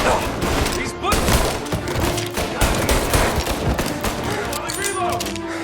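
Rapid bursts of gunfire in the Mafia Remake (Definitive Edition) final mission, Death of Art: dense, repeated shots and thuds over a busy soundtrack, with voices shouting in between.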